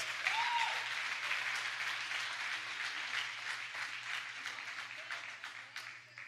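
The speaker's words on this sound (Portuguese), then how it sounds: "pode aplaudir o Senhor Jesus." A church congregation applauds for a short while in a fairly distant, room-filling burst of many hands. It fades toward the end, with a few voices faintly mixed in.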